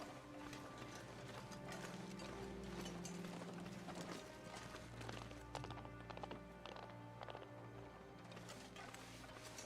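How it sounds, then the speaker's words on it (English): Animal footsteps run in a steady thudding patter through The Long Dark survival game, continuous hurried hoofbeat-like steps at moderate distance over a layered ambient bed, with no talk. "I just heard the footsteps."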